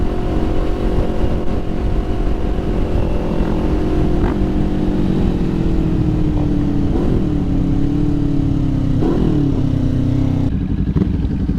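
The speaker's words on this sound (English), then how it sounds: "That's what happens when you pop fucking wheelies." A motorcycle engine revs continuously while riders pop wheelies, the steady drone rising and dipping with throttle changes, loud and close, with faint clatter and no talk over it.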